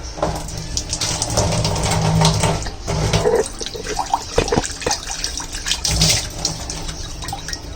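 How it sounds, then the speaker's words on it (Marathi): A kitchen tap running into a sink during washing of steel pots and a pressure cooker, a close, steady gush of water with clinks and splashes as items are rinsed. "कॉक चालू करते"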